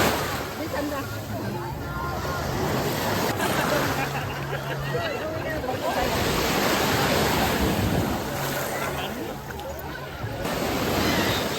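Strong ocean waves crash and wash onto the shore at Samal Island, a loud continuous surf roar with wind buffeting the microphone and distant voices and chatter underneath.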